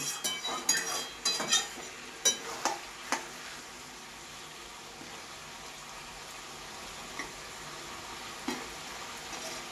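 Mutton head fries in a pan with a steady sizzle, while several sharp metallic clinks and scrapes of stirring come early, then fade to a quieter continuous crackle.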